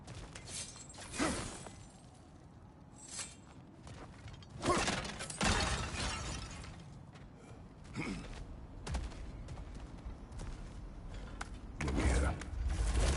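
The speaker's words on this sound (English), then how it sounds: "back to smashing through things for fun and profit" Objects are smashed apart in God of War Ragnarök, a series of sharp crashing, splintering and creaking impacts scattered across the stretch, with quieter gaps between them and some talk in the background.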